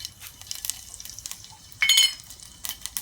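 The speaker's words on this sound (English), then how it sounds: "I'm adding some oil to the pan, hot pan, and jeera seeds." Jeera seeds dropped into hot oil in a hot pan, giving a soft crackling sizzle that flares into a brighter burst of spitting near the middle before settling, close and fairly quiet with no talk.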